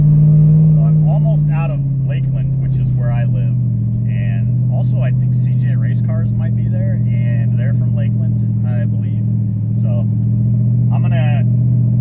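A C5 Corvette with a stroker engine idles steadily with a loud, deep, even rumble that continues throughout while someone talks over it.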